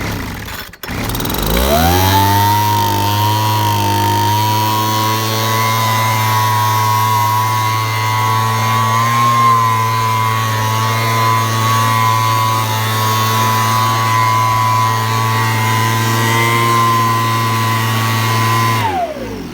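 A restored Homelite leaf blower engine starts up warm and settles into a steady, loud two-stroke drone that holds for about eighteen seconds before cutting off.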